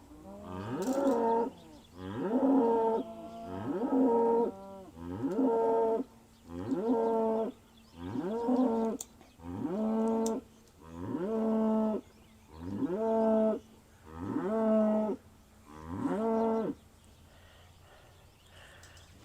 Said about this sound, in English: She's a bellering over there.